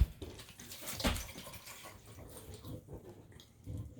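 Water from a Poland Spring bottle poured into a blender jar while making a beef and potato dish, a soft splashing gurgle that swells briefly and then trails off into quieter trickling, heard alone and close.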